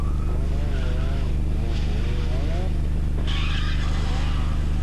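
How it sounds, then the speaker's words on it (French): Ford Sierra rally cars race at the 1987 Ypres 24 Hours rally, tires squealing in wavering skids over a loud engine drone, with a commentator talking throughout. "Droogmans au coude à coude avec Macré, le duel des Sierra démarre sur les chapeaux de roue"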